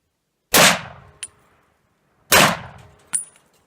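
An M1941 Johnson rifle fires two loud, sharp outdoor shots about two seconds apart, each followed by a short metallic clink and a fading echo.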